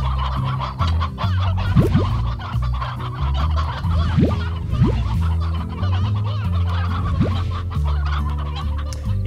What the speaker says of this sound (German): wir brauchen mehr Hühnchen